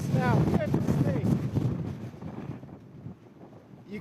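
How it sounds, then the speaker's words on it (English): Strong gusting wind from a record storm buffets the microphone in loud, continuous roaring bursts, easing somewhat toward the end, with a voice speaking over it early on. "You can feel the gusts and being blown from both directions."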